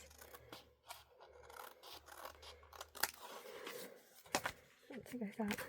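Paper for a scrapbooking craft being trimmed with scissors, several quiet snips and rasping cuts in close succession, fairly faint, with a voice talking softly in places.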